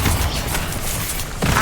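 A Confringo explosive spell blast in Hogwarts Legacy, heard as a loud, sustained rumbling whoosh that fills the clip close up, with a fresh burst of force near the end and no talking.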